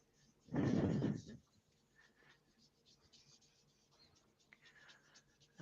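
Sandpaper rasps against a wooden piece whose grain has been raised again, the paper starting to stick: one loud, close, scratchy stroke lasting under a second, followed by near quiet with faint rustling.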